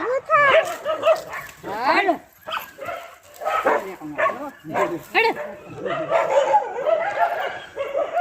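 Dogs bark and yip in short, repeated bursts close by, overlapping in a noisy squabble.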